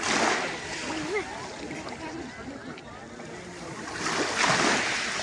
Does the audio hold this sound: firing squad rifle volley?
no